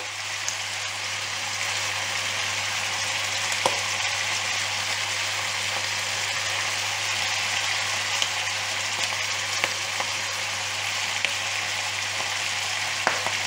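Garlic frying in a pan as the base for a home-cooked ragout, a steady broadband sizzle that holds evenly throughout with a few faint pops and ticks, close and continuous with no talking.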